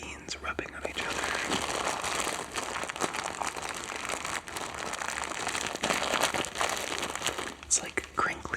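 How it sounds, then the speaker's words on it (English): Beans shifting and rubbing against each other inside a plastic bag, close crinkly rustling with soft clunky grains, continuous and intimate, with faint whispering underneath. "the sound of the beans rubbing on each other"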